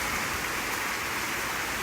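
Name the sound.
heavy rain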